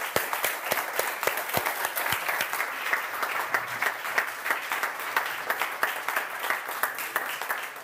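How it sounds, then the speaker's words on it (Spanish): A church congregation applauds at a baptism, sparse individual claps sharp and distinct in an uneven rhythm, fairly close and steady throughout. "le pueden regalar un aplauso"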